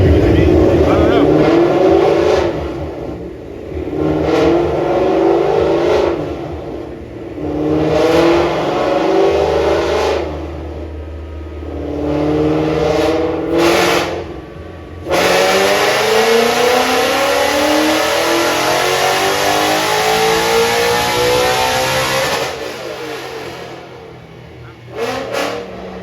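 Supercharged Ford Mustang revving hard on a chassis dyno at a VMP Performance open house, with repeated loud pulls that rise and drop between short lulls, one long sustained run near the middle, and the crowd faint underneath.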